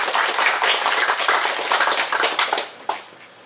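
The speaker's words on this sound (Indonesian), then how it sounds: "Kita berikan tepuk tangan, aplaus dulu, ya." Audience applause at the inauguration of the Al-Ikhlas prayer house in Woroagi, Kampung Naga: dense, steady clapping from many hands for nearly three seconds, then a final clap as it fades out.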